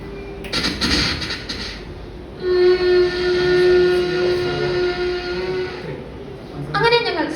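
A young performer's voice imitates a train arriving at a railway station: chuffing bursts, then a long sustained whistle-like tone, ending with rapid rhythmic clattering, all close and loud.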